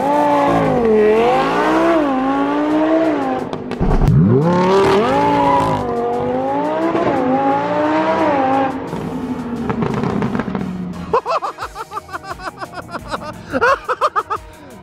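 A Lamborghini's loud engine revs hard and accelerates in rising sweeps, then drops to a crackling, popping exhaust burble, heard from right behind the car.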